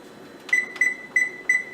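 Oven timer being set, four short electronic beeps in an even rhythm, clear and close with a faint background hum.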